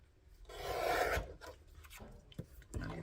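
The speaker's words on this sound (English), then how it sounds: "Actually, I'm going to use a trimmer" A small paper trimmer guillotine slices through cardstock during card making, giving a close, loud rasping slide that builds and then stops, followed by a few quieter scrapes and soft taps.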